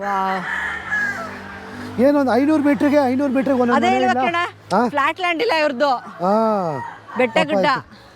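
A rooster crows and chickens cluck close by in a Philippine village where gamecocks are raised, mixed in with someone talking over them.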